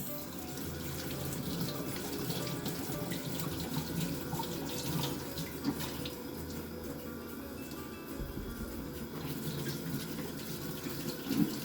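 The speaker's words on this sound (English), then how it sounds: "is to wash your vegetables." Tap water runs steadily into a kitchen sink as vegetables, including red and green peppers, are washed under the stream for a slow cooker chilli, a continuous splashing gush with no talking.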